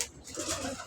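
Soft pigeon cooing among a keeper's flock, a low murmuring coo that carries on through a brief moment with faint background noise.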